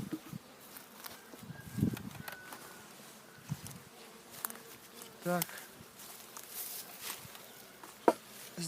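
Honeybees buzz from an opened beehive during a spring check, a soft steady drone under occasional sharp clunks and handling knocks from working the hive.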